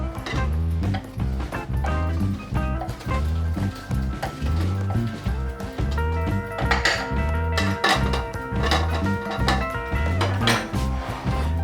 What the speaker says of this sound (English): time to give it a stir